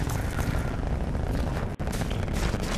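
A rocket lifting off on the Launch map in Call of Duty: Black Ops, a loud, continuous low roar that fills the whole moment, broken only by a split-second dropout.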